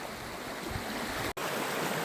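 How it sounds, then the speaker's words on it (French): A small river runs beside a footpath, its water rushing in a steady, close, broadband wash with one brief dropout partway through. "Écoute ce petit sentier là le long de cette petite rivière"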